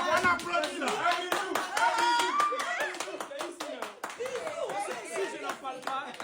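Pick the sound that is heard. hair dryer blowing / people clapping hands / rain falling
people clapping hands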